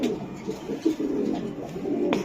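A racing pigeon gives low, soft cooing close by in a quiet indoor setting, with faint handling sounds and a brief click at the end.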